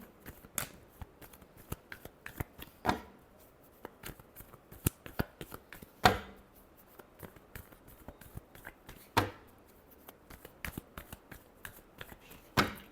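Tarot cards are shuffled in quick, crisp riffles and soft flicks, close and fairly quiet, with sharper snapping bursts every few seconds and no voice.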